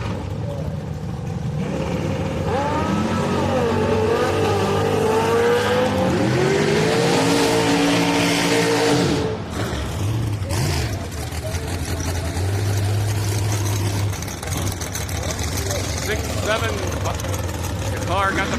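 A car and a motorcycle in a bracket drag race at Houston Raceway Park, engines roaring loudly before cutting out, then a quieter rumble follows while an announcer talks over the track.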